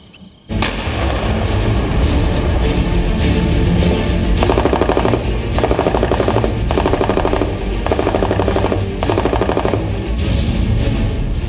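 Heavy gunfire and shelling along the Line of Control in Poonch during a ceasefire violation: loud, sustained bursts of automatic fire with rapid rhythmic pulses, continuing almost without pause.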